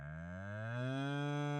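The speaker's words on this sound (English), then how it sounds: "This animal is called a cow." A single cow moos in one long, steady, rising low call that fills the whole moment, close and clear with no talking.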